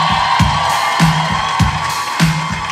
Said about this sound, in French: Une bonne main d'applaudissement pour mon équipe